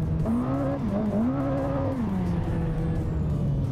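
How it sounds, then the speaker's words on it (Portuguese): Ferrari drifting in the Assetto Corsa game with all four wheels sliding, a loud continuous engine tone that wavers up and down before settling lower toward the end, without speech. "Vai escorregando as quatro rodas."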